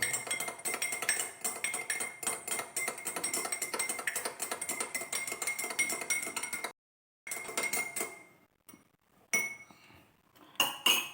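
A spoon stirs honey into tea in a cup, clinking rapidly and steadily against the sides for several seconds, then a short pause and a few scattered taps, close by with no talk.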